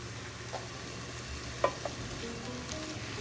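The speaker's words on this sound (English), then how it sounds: "we're going to continue to saute our ingredients for about 3 minutes" Tomatoes and other ingredients for a poblano chiles rellenos casserole sauté in a pan over medium heat, giving a faint, steady sizzle with a few soft clicks and stirring taps.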